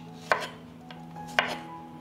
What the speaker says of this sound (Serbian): Sada ću iseckati 2 očišćene glavice belog luka.